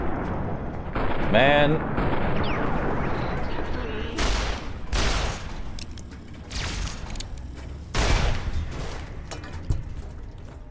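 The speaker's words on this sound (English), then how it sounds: "She's using grenades." Repeated grenade blasts and gunfire in Fallout: New Vegas, a cluster of loud bursts around four to six seconds and again near eight, mixed with someone talking and game sounds.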